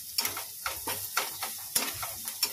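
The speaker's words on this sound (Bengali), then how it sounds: "এখানে দেখো নিম পাতা ভাজছি আলু দিয়ে" Neem leaves frying with potato in a pan, a soft sizzle broken by regular stirring scrapes roughly every half second, fairly quiet and close.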